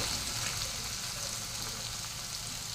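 Chopped onions for paneer bhurji sautéing in a pan give a steady, soft hiss and sizzle, continuous and fairly faint with no talk.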